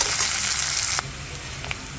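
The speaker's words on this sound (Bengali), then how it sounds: "যতক্ষণ পেঁয়াজটা হালকা ব্রাউন না হয় ততক্ষণ আমি ভাজতে থাকবো।" Chopped onion and whole garlic cloves fry in a pan with a steady close hiss that drops suddenly to a quieter sizzle halfway through.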